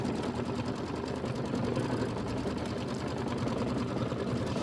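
A close sewing machine stitching a satin stitch on a chenille pineapple quilt block hums and chatters in a fast, even, continuous rhythm with no talking.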